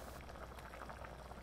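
A steady bubbling simmer of Korean kimchi fish soup with saury and tofu in a pot, a continuous soft burble close by with no voices.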